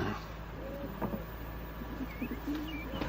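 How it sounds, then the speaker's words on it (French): Pigeons coo softly in a few low, faint throaty murmurs over a steady noisy background, with a couple of thin chirps, distant and quiet. "Des pigeons."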